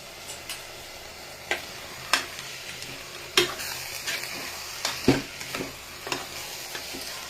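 Ingredients for ghee rice frying in a pan, a soft steady sizzle punctuated by repeated sharp scrapes and clinks of a spoon stirring against the metal.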